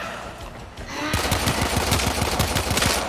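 Rapid hand cannon gunfire in a video game, a fast run of loud, evenly spaced shots that begins after a brief quieter lead-in and continues steadily to the end.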